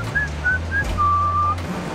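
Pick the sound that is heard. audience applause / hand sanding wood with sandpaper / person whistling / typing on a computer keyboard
person whistling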